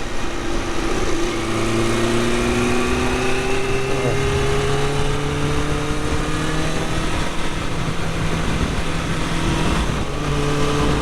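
A Yamaha OW01 motorcycle engine heard while riding into a corner, a loud, steady, close engine drone with a slowly shifting pitch and wind rush, and no talking.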